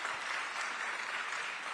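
Audience applause, a dense steady patter of many hands clapping at moderate distance, sustained evenly throughout.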